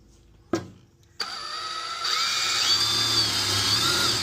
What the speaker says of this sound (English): switch to the 3/16 drill bit, so here we go